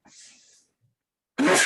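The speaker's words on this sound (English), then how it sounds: "sorry, the sneeze wasn't the point of that" A single sharp sneeze bursts out near the end, close and loud, following a faint breathy sound and a brief pause.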